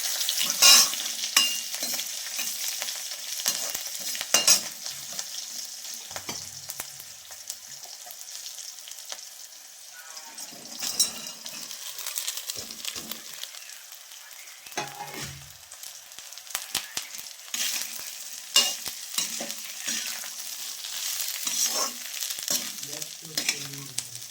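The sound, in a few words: cumin and green chilli tempering sizzling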